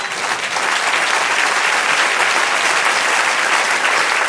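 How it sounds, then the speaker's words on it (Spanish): A church congregation applauds loudly and continuously, a dense, even wash of clapping from many hands with no pauses. "Dale un aplauso al Señor."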